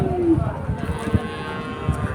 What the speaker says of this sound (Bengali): গরু আসতেছে শুধু গরু